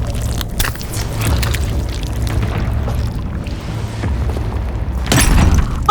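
A deep, rumbling boom in the video game Sons of the Forest, a sustained low roar filling the clip with a fresh, louder burst near the end.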